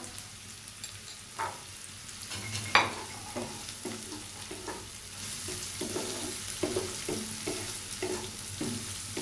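Garlic cloves sizzle in a pan of hot oil for a fried egg-yolk bhuna, the steady hiss broken by repeated clinks and scrapes of a spoon stirring, heard close up.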